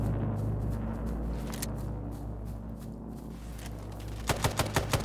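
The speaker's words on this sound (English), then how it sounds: "Yep, I'm shooting him." Battle-royale gunfire in Islands of Nyne, a steady din of distant shots and combat noise, then a quick cluster of four or five sharp, louder close shots near the end.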